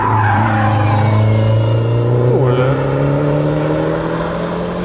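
A race car slides on a track with its tires squealing in a sharp, loud skid, a rising and falling screech riding over the steady, droning engine note close by.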